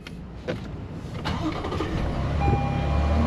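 A Toyota Tundra pickup's engine turns over and settles into a running rumble that grows steadily louder and fuller, heard from close by with no talking.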